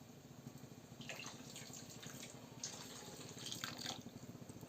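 Water is poured into crab gravy cooking in a pot, a faint, soft trickle and splash lasting several seconds and heard alone at low volume.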